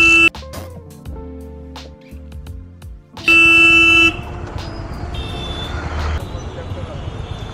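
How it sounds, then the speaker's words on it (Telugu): Hyderabad city traffic during rain, with a loud, sustained car horn blast standing out over a steady roar of engines and road noise, plus shorter toots earlier and people talking nearby. "అన్నానో లేదో ట్రాఫిక్ వచ్చేసి."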